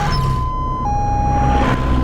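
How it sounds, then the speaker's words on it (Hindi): An ambulance siren wails, sweeping between tones, with a continuous low rumble of traffic or engine noise underneath. "एम्बुलेंस भी आ गई।"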